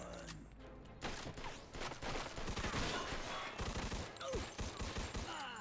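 Pistol gunfire in a Mafia II firefight, rapid overlapping shots cracking in bursts over a busy background of game sound, steady and fairly loud throughout with brief speech-like fragments.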